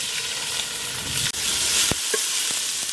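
Tempering sizzles loudly in a pan as ground shallots go in for a beef curry, a continuous hissing fry broken by a brief stir and a few clinks, with no speech.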